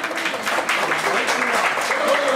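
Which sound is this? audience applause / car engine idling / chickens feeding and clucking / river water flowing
audience applause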